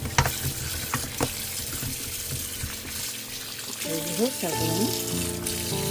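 Fish being soaked and washed with water while a fish dish is prepared, a steady splashing, running-water wash under a voice speaking toward the end.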